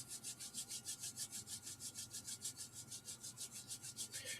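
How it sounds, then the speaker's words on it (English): Hands rub briskly together in a steady back-and-forth rhythm during a T'ai Chi and Chi Kung exercise class, a soft, close, repeated swishing friction with no talking. "So, rubbing your hands together"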